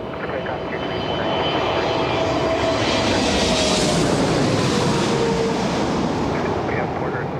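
Airliner taking off from runway 23 at Toronto Pearson airport, a powerful sustained jet engine roar that swells to a peak and then slowly fades, heard from a distance.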